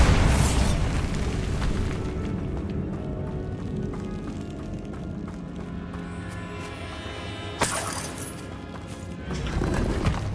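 A Bombarda exploding spell goes off in a Harry Potter video game, heavy booming blasts at the start and end with a sharp crack midway over continuous rumbling game noise.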